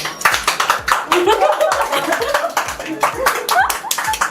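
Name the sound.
people clapping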